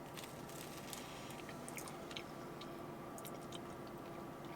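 Someone bites into and chews a glazed cinnamon sugar donut, making soft, quiet, close-up crunching and squishy chewing sounds in an otherwise calm room, with no talking.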